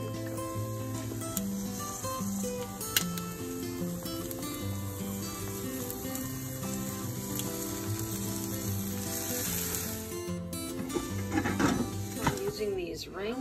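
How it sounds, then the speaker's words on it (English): Eggs fry in a silicone egg ring in a pan, a steady sizzle running throughout with a background music-like tonal hum and a few light clinks near the end; speech is faint or absent. "So I fried up some eggs."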